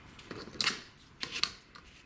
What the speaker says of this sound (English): And cut off the other fold line on the other side